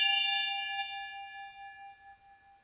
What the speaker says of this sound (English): Listening to the sound of the bell to start the meditation.